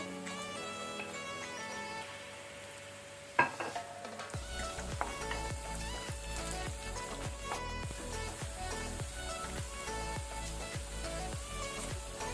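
Small-cut potatoes frying with pink-softened onions in a pan for kanda poha, with steady sizzling and repeated stirring scrapes throughout, preceded by background music.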